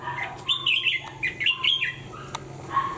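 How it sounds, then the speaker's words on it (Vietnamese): A caged decoy bird chirping in bursts of bright, quick tweets and short warbling calls, fairly close and clear over a quiet background. "chỉ có tiếng chim kêu không?"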